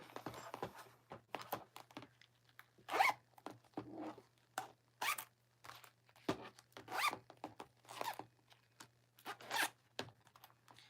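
On a handmade fabric pouch, a zipper is pulled open and shut again and again, making a series of quick close rasping strokes in an uneven rhythm with short pauses between.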